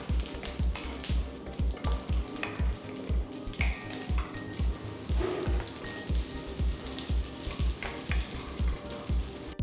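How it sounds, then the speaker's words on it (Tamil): Sliced onions sautéing in a kadai for onion masala, a continuous close sizzle broken by regular rhythmic scraping strokes of a spatula, no voices. "வெங்காயம் பாதி வேகிற வரைக்கும் வதக்கலாம்."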